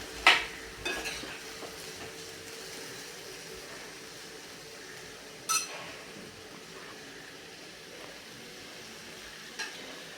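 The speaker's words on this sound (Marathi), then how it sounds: "ही डाळ आपण या कांद्यासोबत परत एकदा परतून घेऊयात छानपैकी" Lentils being stir-fried with onions in a pan for a dal kanda dish, a faint soft sizzle underneath with a few sharp scrapes and clinks of the spatula against the pan spaced out over several seconds.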